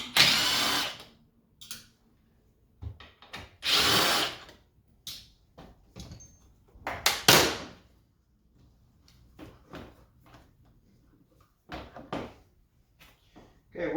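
Short bursts of a power drill or driver backing 7 mm bolts out of a Corvette C8 dashboard, several separate whirs with quiet gaps, some clicks and handling noises, and someone speaking in between.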